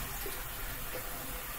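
Tap water runs steadily into a hamster's water bowl as it fills, a continuous close rushing hiss with no talk.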